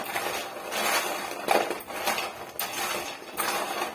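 Crispy homemade Kurkure snacks being shaken in a bowl, giving a dry, rustling crunch with light clinks and rattles in repeated bursts, close and moderately loud, with no talk over it.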